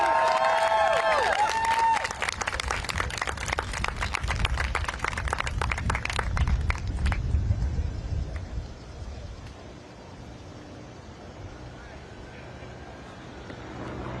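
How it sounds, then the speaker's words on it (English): Crowd at a student protest at Howard University in Washington, D.C. clapping and cheering for a speaker. A dense burst of applause is close and loud at first, then thins out and fades to quieter crowd murmur. "Another round of applause for that speaker, everybody."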